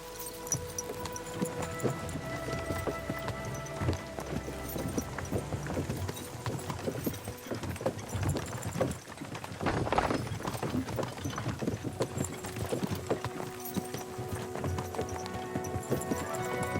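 Horse hooves clip-clop at a steady walking rhythm in the medieval game Kingdom Come: Deliverance II, close and continuous over background game music and ambience, with a brief whinny.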